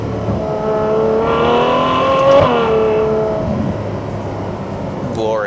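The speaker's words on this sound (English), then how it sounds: "And listen to the downshifts." A 2020 Ferrari 812 Superfast with 800 hp revs sharply through its downshifts, a loud, smooth engine note that climbs and falls in sustained tones with a clear peak midway.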